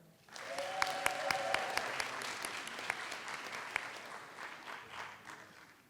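A high school graduation audience breaks into a sustained round of applause that swells quickly and holds for several seconds in a large hall, with a few sharper individual claps standing out before it thins at the end.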